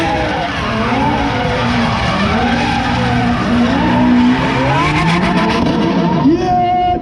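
A Lamborghini engine wails through loud, sustained revs at the SEMA Show in Las Vegas in 2021, its pitch sweeping up and down with a tire-squeal-like edge, close and continuous with crowd noise around it.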